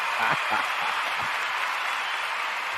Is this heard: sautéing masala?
no